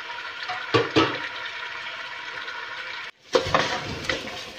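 About a kilo of chicken sizzles in a hot pan while its water cooks off, a soft steady hiss broken by a few clinks and stirring knocks.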